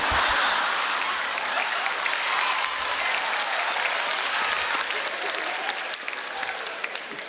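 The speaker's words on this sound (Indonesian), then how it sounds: "Tepuk tangan dulu buat saya." An audience at a stand-up comedy show in Indonesia bursts into loud, steady applause that continues for several seconds, dense and sustained, easing only slightly near the end.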